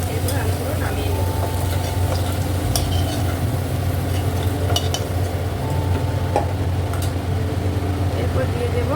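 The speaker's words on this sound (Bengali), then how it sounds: "আলুগুলো ভালো করে লাল লাল করে ভেজে নেব।" Potatoes frying in a pan while being stirred, a steady dense sizzle with scraping stirs throughout, close and fairly loud; a voice talks faintly in the background.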